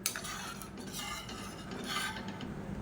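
Mashed dal and tomato are mixed into rasam with a spoon, producing continuous soft scraping and swishing in the pan with faint clinks, steady and fairly quiet over a low background hum.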